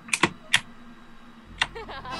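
A few sharp keyboard clacks land in quick clusters, close and crisp, with short pauses between taps and a faint hum underneath.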